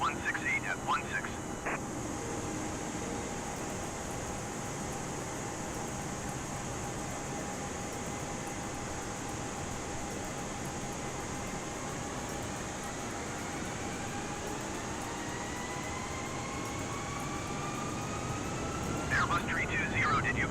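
An Airbus A320 in a flight simulator game, a steady loud jet engine drone with a rising whine held for the whole landing approach, with a few faint clicks near the start and end.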